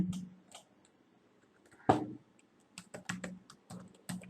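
Someone types a word on a computer keyboard in a few quiet, scattered clicks, with a louder knock partway through and a quicker run of keystrokes toward the end.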